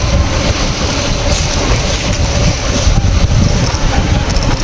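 A train runs on rails with a loud, steady rumble and rushing wind noise heard from onboard, carrying a faint rhythmic rattle and no talking.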